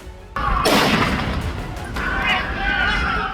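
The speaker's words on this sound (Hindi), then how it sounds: "दोनों आतंकियों ने सिडनी के बॉन्डी बीच पर कुछ इस तरह से गोलियां चलाई।" Gunfire during the terror attack at Bondi Beach in Sydney: a couple of sharp, loud cracks early on, followed by a sustained noisy, echoing din.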